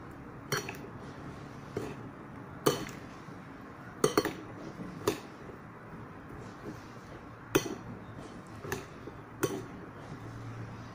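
Beef tripe kerabu salad being tossed and mixed in a bowl, with scattered sharp clinks of utensils against dishware over a soft, steady squishing and rustling of ingredients, close and moderately loud, no talking.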